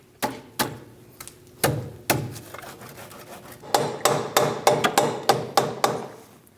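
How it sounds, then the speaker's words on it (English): Soft face hammer tapping a front upper control arm into place on a 2001-2006 Chevrolet Silverado, about a dozen sharp close knocks, sparse at first, then coming faster and evenly spaced toward the end. "use a soft face hammer to help you install the control arm"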